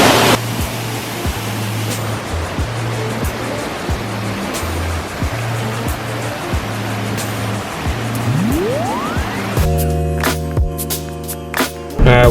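Bald River Falls pours in a steady, full rush of broadband water noise close by, with a few soft clicks and bumps from handling partway through and a brief tonal rise near the end.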